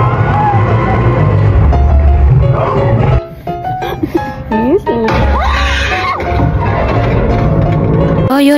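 A packed cinema audience during the horror film The Conjuring, with loud screams and yells rising in bursts, a brief quieter lull, then more shrieking and crowd noise mixed with voices.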